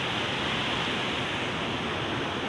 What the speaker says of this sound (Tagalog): yung sapa.